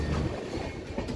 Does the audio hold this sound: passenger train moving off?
yes